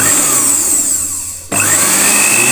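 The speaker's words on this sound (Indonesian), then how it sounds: "blender sudah menyala ya" A repaired Philips blender motor whirs loudly and steadily up close, briefly dipping as it slows, then abruptly kicking back up to a high, constant whine.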